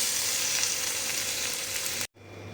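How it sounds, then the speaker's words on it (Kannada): Pomfret fish sizzles steadily in hot oil in a pan, a loud, dense frying hiss that cuts off briefly near the end. "pomfret mean fry ready"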